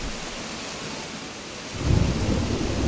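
Storm sounds from the video game Animal Crossing: steady heavy rain hiss, then a deep rumble of thunder rolling in and swelling near the end, with no voices.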